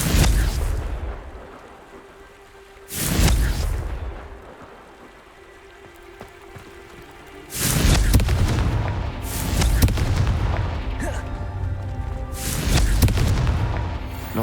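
Several booming fire-spell explosions from Confringo in the game Hogwarts Legacy, heavy blasts spaced a few seconds apart with crackling debris between them, loud and without talk.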